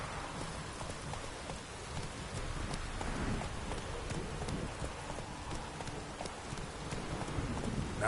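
Roach the horse gallops in The Witcher 3 at night with steady clip-clop hoofbeats in a continuous rhythm, mixed with a rain-like wash of ambient noise and no talking.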